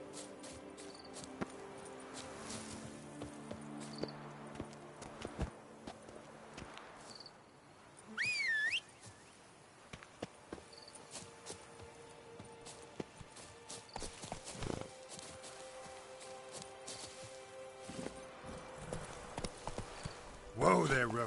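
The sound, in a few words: horse Roach trotting, hooves clip-clop, from video game The Witcher 3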